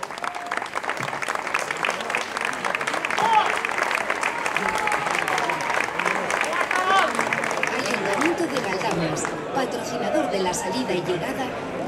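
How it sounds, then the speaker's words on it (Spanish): An audience claps at an outdoor trophy ceremony for a cycling race, steady applause mixed with crowd chatter and voices throughout, moderately loud and sustained for the whole stretch. "Un aplauso para él, por tanto,"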